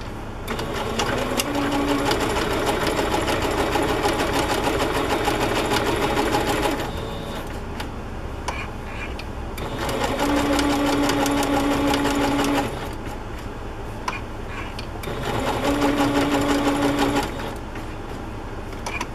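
Three runs of a sewing machine stitching down a fabric flip on a binder-journal divider page, each a steady, close, fast-whirring burst of several seconds separated by short pauses with faint handling noise.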